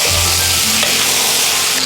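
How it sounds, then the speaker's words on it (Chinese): Minced garlic and chili peppers stir-fry in a wok, giving a loud, steady sizzle that runs unbroken throughout with no speech. "蒜末炒香过后倒入海椒"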